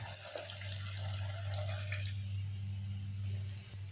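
Water poured from a tap into a rice cooker pot holding frying sardines and garlic, a brief steady close splashing rush over a low hum.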